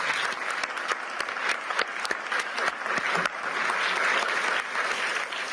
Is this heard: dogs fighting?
no